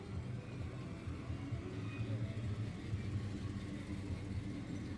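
Corvette Stingray cars, old and new, roll past at an outdoor car show, a steady close engine rumble and road noise filling the scene, with voices faintly in the background.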